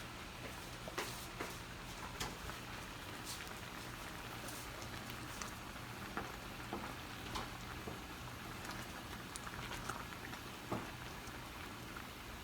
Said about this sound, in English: So look at this bubbling while I get the ice cream out.